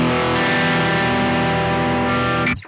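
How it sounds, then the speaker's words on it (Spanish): Electric guitar played through a Neural DSP Mesa Boogie Mark IIC+ amp simulation with the mids raised for more drive, a loud sustained distorted chord ringing steadily for over two seconds before being cut off abruptly. "pero si las subimos ya sería más drive"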